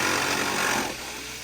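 A jigsaw cuts to widen a hole in a wall for a diesel heater install, a loud, dense buzzing rasp close by that eases slightly in level toward the end.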